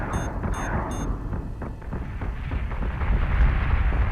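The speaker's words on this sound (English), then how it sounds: "Missiles incoming!" Missile explosions rumble through a space battle in the video game Battlestar Galactica Deadlock, deep booming blasts rolling one into another over a few seconds after three short alert beeps.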